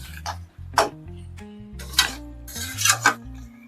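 A metal spoon scraping and clinking against a pot while chicken liver, gizzard and potato curry is stirred and sautéed, with a few sharp clanks over a steady low sizzle.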